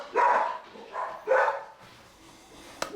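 Dogs bark at someone at the front door of a house: two loud bursts of barking close by, then quieter whimpering and yips, ending with a sharp click.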